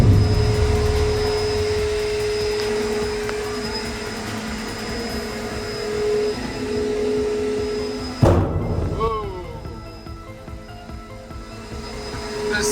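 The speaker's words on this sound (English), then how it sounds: "You got your vacuum?" A vacuum cleaner runs with a steady high whine and drone aboard a boat, cutting off abruptly partway through, followed by a quieter hum.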